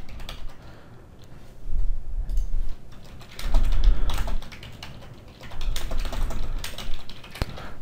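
Typing an email on a computer keyboard in a Gmail window, uneven bursts of close clicking keystrokes with short pauses between them and no speech.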